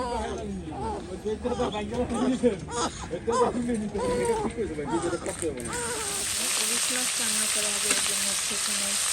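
Onions fry in a pan with a steady bright sizzle that grows louder and settles into a constant hiss once the chatter of several people talking nearby fades.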